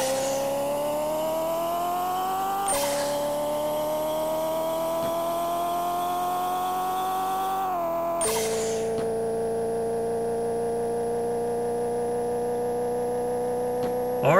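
Engine of a car in a mile drag race in the Pixel Car Racer video game, a steady synthetic engine drone that climbs in pitch through each gear, with two sharp gear-change jumps and no talk.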